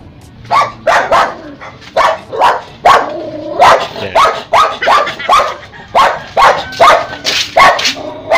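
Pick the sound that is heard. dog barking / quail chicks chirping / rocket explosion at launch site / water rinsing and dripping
dog barking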